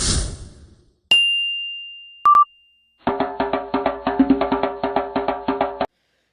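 A channel intro jingle for a Brazilian football commentary show opens with a swish, then a held synthetic tone and a brief beep, followed by a rhythmic run of bright chiming hits that stops abruptly.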